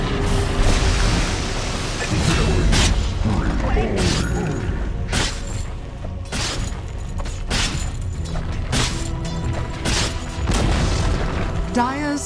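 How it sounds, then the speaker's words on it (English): Booming crashes and mechanical rumbles from a tower collapsing in the video game Dota 2, dense and loud with repeated heavy impacts under game voice-over announcements. "Dire's top tower has fallen."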